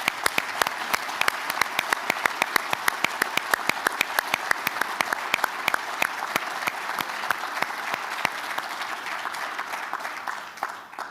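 An audience at a county address claps for public safety officials, a sustained round of applause with sharp individual claps standing out, loud and steady before tapering slightly at the end.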